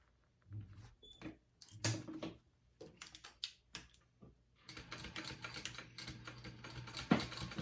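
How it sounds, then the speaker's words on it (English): A sewing machine stitches through layers of bag fabric at a 3/8 inch seam allowance: quiet scattered clicks and taps, then a faint, steady rapid stitching run that continues to the end. "So I'm gonna go ahead and sew this on at a 3/8 inch seam allowance"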